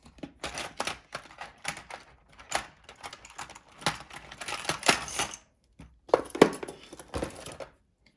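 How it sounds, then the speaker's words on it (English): Scissors make a series of quick, crisp snips through fabric on a taped-down doll pant mock-up, the cuts arriving in short bursts separated by brief pauses, close and fairly loud with no talking. "to get rid of that curve there, I'm going to make some snips"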